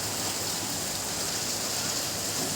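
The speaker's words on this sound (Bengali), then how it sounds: "বৃষ্টির কিন্তু বড় বড় ফোঁটা পড়ছে এখন," Heavy rain with big drops falling outdoors over a street, heard as a dense, even hiss that holds steady and fairly loud for the whole stretch, with no voices.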